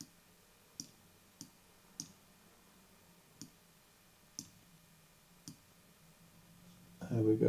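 A computer mouse clicks during photo editing, seven or so sharp, isolated clicks spaced a second apart, close and quiet, with a louder rustle at the end.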